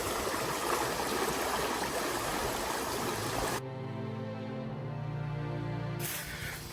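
A river in Australia rushes loudly and steadily nearby, then the flow sound drops out for a couple of seconds before returning.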